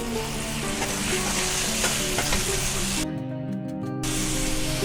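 Boiled chickpeas tipped into a pot of sizzling chana pulao, a loud steady frying hiss with stirring that briefly shifts in tone, close by with no talk.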